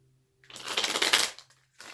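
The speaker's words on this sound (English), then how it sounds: "One more shuffle, please." Tarot cards being shuffled by hand, a single close, crisp riffling burst of about a second after a quiet start, with a brief soft rustle at the end and no talking.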